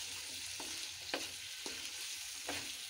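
Potatoes stir-fried in a pan for an aloo baingan dish, a continuous sizzle broken by several sharp scraping strokes of a spatula at uneven intervals, close and clear with no voices.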